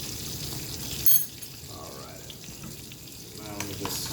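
Grits being stirred in a pot at breakfast time, with a soft, steady bubbling and scraping close by and a faint voice briefly underneath.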